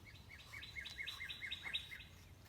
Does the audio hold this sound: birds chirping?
yes